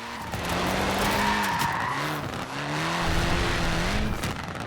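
A Mini with tiny tyres, short wheelbase and front-wheel drive skids and slides in Forza Horizon 4, its tyres scrubbing steadily under a droning engine, loud and close throughout with no talking.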